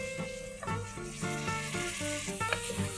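Peas, carrots and tomato are stirred in a sizzling pan for masala rice, with a steady frying hiss and repeated close scraping and clinking strokes of the spoon.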